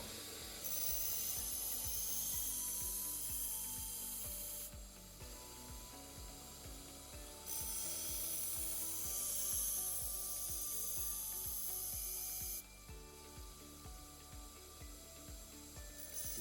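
Belt grinder with a 220-grit belt sharpening a dull knife blade, giving a quiet, steady rasping hiss with a rhythmic ticking underneath as the blade makes several passes across the belt. No voices are heard.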